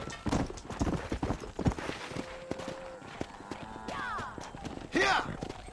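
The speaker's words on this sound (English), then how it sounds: "Control that horse, will ya?" Horse hooves clip-clop in Red Dead Redemption 2 as a rider drives along a road, the steady footfalls running under game dialogue and other voices, with a brief whinny-like call near the end.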